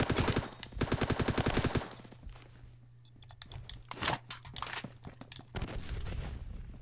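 Rifle fire in a video game, a tight rapid string of sharp shots at first, then scattered single cracks and bursts after a brief lull, moderately loud.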